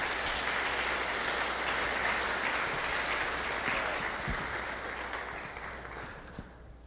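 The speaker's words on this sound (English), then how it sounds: "please give a round of applause for 0 to 100 million ARR, Danny Young." An audience at an e-commerce mastermind event applauds, a dense, sustained wash of clapping that holds steady, then thins and fades toward the end.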